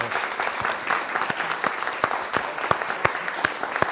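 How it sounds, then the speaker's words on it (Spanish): Applause from a conference audience after a keynote lecture, a dense patter of many hands with a few sharper individual claps standing out, fairly close and steady. "We have to give you a big applause."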